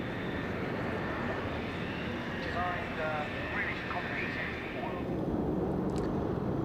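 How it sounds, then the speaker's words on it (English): Four Royal Jordanian Falcons aerobatic aircraft fly at the 2002 Royal International Air Tattoo at RAF Fairford, a continuous broadband engine roar holding steady throughout, with a faint voice briefly under it. "here are the Royal Jordanian Falcons, only 4 of these as opposed to the 5 aircraft of the Chilean team"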